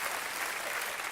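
Hands clapping during a French comedy blind-test show, a dense, steady patter of applause that holds evenly for its whole short span with no talk.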